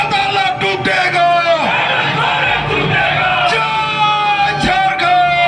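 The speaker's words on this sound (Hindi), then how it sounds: "भीड़ फिर नारे लगाने लगी" Supporters at a Jharkhand political rally for Hemant Soren shout slogans in loud rhythmic unison, a packed crowd's voices surging and rising together in rough cheering bursts.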